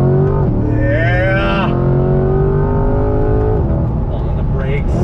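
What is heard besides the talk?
Chevrolet C8 Corvette Z51 engine accelerating on throttle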